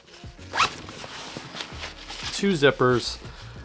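A zipper on an Able Carry Daybreaker 2 backpack is pulled open in several quick rasping strokes, close up, with a voice talking over part of it.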